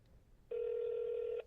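A single telephone ring tone heard during a call, one steady electronic burst of about a second, clear but modest in volume over faint background hiss.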